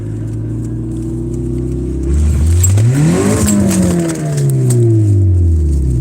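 A car engine revs hard, its pitch climbing and then sagging as the driver misses a gear shift. It is close and loud, with no talking.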